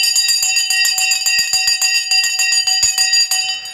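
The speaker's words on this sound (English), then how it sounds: "The bell has now gone." A stock market closing bell rings in rapid, continuous metallic strikes, loud and close, a bright trilling clang that holds for several seconds.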